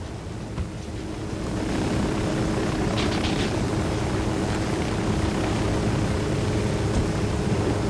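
Helicopter in the Ghost Recon Wildlands video game, a loud continuous rotor and engine roar that swells after the first second and then holds steady and close, with no talking over it.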